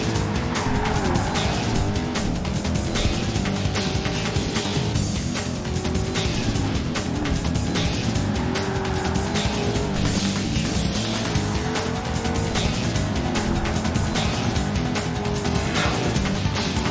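Racing car driven at high speed in Project Gotham Racing 2, a continuous loud engine whine with shifting pitch, repeated tire squeals and skids, and no talk.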